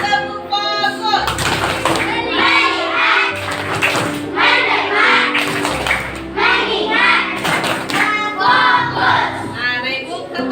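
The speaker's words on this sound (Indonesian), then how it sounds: "Oke, tepuk fokus. Lagi tepuk fokus." Classroom of young children doing a rhythmic focus clap, several bursts of claps in time with chanting voices, loud and close with a teacher's voice between.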